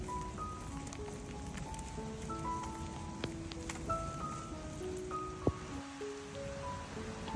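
Steady rain falling outdoors, a soft continuous patter with scattered drips, overlaid by thin tonal chirps and beeps.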